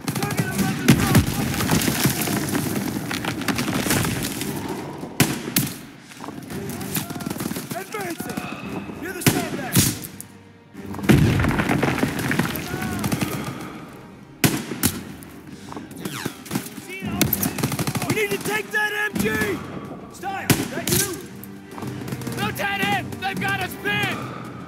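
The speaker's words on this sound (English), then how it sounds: "Gunfire! We must be near our guys." Bursts of gunfire crackle and boom repeatedly over a long stretch, some rapid like automatic fire, with loud shots separated by short pauses.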